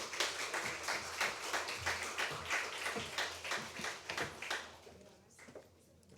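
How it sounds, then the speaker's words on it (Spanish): Audience at a Dominican philosophy panel discussion claps to welcome a cultural speaker, a dense, even patter of many hands sustained for several seconds before thinning out and fading. "Recibámosla con un fuerte aplauso."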